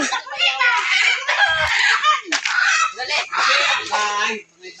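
Chickens cluck and crow near a rural farmhouse, a loud continuous run of overlapping calls filling several seconds with brief pauses between bursts.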